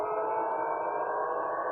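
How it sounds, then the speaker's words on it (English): An air raid siren wails over Belgorod during a total blackout, a steady, sustained tone with no voices. "there is a total blackout and just air sirens are working."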